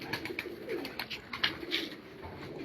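Soft, low pigeon cooing in a few throaty bursts on a rooftop in Punjab, with light rustling and background noise around it.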